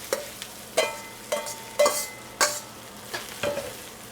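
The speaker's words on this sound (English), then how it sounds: "I am truly going to fry this rice. I want the heat all the way up. I want to move it so it doesn't stick" Rice frying in a very hot pan for Peruvian fried rice, stirred in a series of sharp scraping strokes about every half second over a steady soft sizzle.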